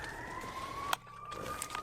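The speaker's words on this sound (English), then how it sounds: "Police sirens in the background." A police siren wails faintly in the distance of an urban street, a steady rising tone heard over low background noise, briefly interrupted by a soft nearby knock.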